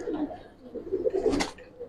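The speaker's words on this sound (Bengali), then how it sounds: "এটা একটা নর কবুতর" Close, low coos from a male Giribaz pigeon in a loft, a few throaty pulses followed by a brief rustle or flutter near the end.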